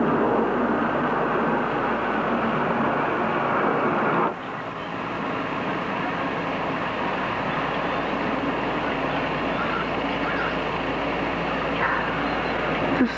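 Steady, broad aircraft rumble overhead as a plane circles, droning continuously at fairly high volume. It dips briefly partway through, then resumes at an even level, with no voices.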